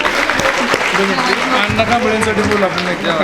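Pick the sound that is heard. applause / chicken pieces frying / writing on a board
applause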